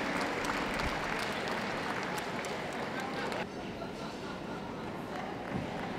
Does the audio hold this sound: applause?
yes